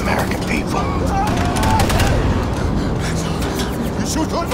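Gunfire in Wolfenstein II: The New Colossus, dense repeated shots over a busy, steady battle mix of effects and music, with voices mixed in.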